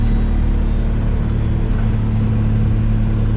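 A vehicle being driven during a transmission pan and heat exchanger test, giving a steady, loud engine and road rumble with low droning tones, continuous and unchanging throughout.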